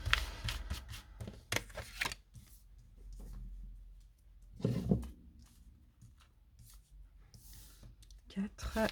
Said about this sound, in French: on prend 5 cartes de ce tarot et on recouvrira avec 5 autres cartes